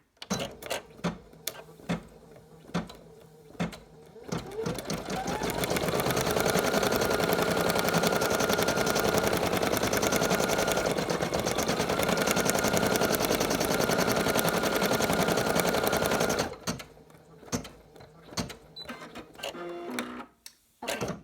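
A Brother PE800 embroidery machine sews a placement stitch through tearaway stabilizer in a 5x7 hoop, a steady fast mechanical whirring and rapid needle clatter running continuously for most of the stretch, with ticks and clicks before and after.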